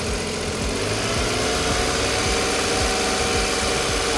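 Engine of a Suzuki DA64V non-turbo automatic 4x2 van, 2013 model, running steadily at idle with a continuous even drone and faint rhythmic mechanical ticking, loud and unbroken with no voices.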